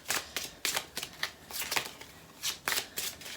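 Tarot cards are shuffled in quick papery riffles and flicks, a series of about eight sharp bursts at uneven intervals, fairly close and fairly quiet.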